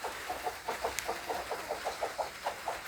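Chickens cluck in short rhythmic bursts at a farmyard home, a steady run of about a dozen close clucks, one sharp click among them, with no talking.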